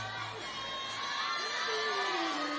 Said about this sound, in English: And listen to that crowd. The kids just relentlessly cheer every Slovenian athlete.